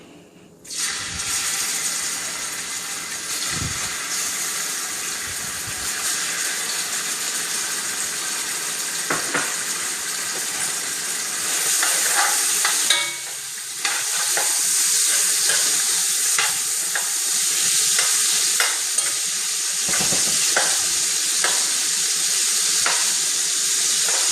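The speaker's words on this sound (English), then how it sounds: "Focus on the bacon frying." Bacon sizzles loudly in hot fat in a pot over medium-high heat, a dense crackling hiss that continues throughout, with occasional pops and stirring clatter.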